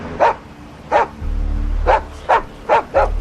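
A dog in a video game barks six times in short, evenly spaced bursts over a low steady hum, each bark fairly loud and close.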